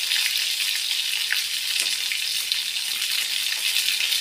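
Fish frying in a pan makes a dense, even sizzle and crackle, loud and close, running unbroken with no voices.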